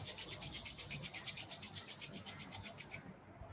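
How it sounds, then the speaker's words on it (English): Hands rubbing briskly together during a mindfulness exercise, a fast, even series of soft swishing strokes close by that stops abruptly near the end. "rub your hands"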